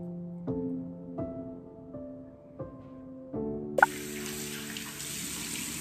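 At a bathroom sink during a calm morning routine in Malaysia, tap water suddenly gushes on partway through and runs in a steady, close hiss, after a stretch of soft, sustained musical tones.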